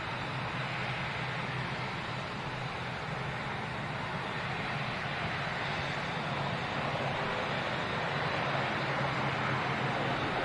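An ATR turboprop rolls out after landing on runway 23 right at an airport, heard from a distance as a steady, broad roar of engine and wind noise that stays even throughout with no voices.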